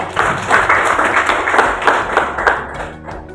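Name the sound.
classroom applause for group 2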